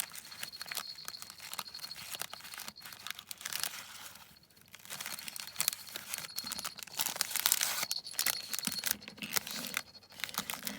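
Tape is peeled and ripped from a small parcel in repeated crackly tears with crinkling, fairly close and continuous, without talking.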